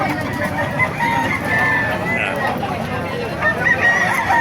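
Hatch gray gamecock chickens at a crowded poultry market in Bocaue, with clucking and crowing scattered through a busy background of voices and noise.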